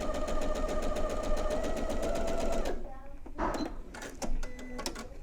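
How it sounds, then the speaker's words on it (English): A sewing machine running a straight stitch along striped binding, with a steady, close rapid whir for about three seconds, then stopping, followed by handling clicks and a brief spoken remark. "I am just gonna go ahead and sew straight back regardless."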